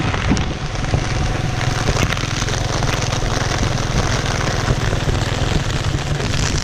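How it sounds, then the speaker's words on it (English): Mild rain falls outdoors as a dense, steady patter close by, with a low rumble running underneath it and no talking. "It's quite a mild rain"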